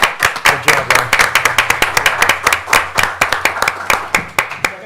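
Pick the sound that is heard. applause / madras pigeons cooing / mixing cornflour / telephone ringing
applause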